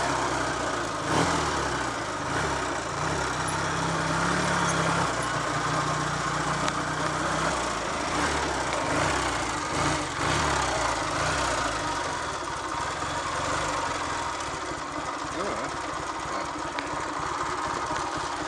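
A Triumph Trophy TR5 motorcycle engine runs at a rough, uneven idle after a ride on the Roman Road, its loud, close, throbbing chug continuing steadily with no voices.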